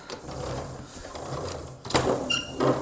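A retro dough rolling machine rolls out puff pastry, giving uneven mechanical rumbles, clunks and rattles in several short bursts at close range, with no talk.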